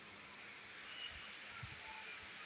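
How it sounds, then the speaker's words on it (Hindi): Steady, faint rain falls outdoors in a quiet setting, an even hiss of drops with no other sounds. "देखो भाई, गजब का मौसम हो रहा। बरसात पड़न लग रही।"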